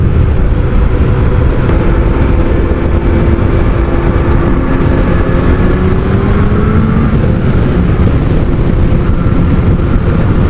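A Kawasaki ZX12R motorcycle roars under acceleration, its engine note rising and shifting steadily beneath heavy, constant wind rush from riding at speed.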